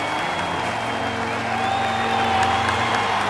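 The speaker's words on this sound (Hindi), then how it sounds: "ये ले तालियां" Crowd applause and cheering, a steady wash of many hands clapping that swells slightly toward the end, with tonal background music running underneath.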